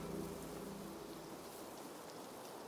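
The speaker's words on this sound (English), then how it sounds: "The first rains of the new wet season arrive like a benediction from the gods" First rains of the wet season fall on a parched savannah, a faint, steady hiss of rainfall with no other sounds standing out.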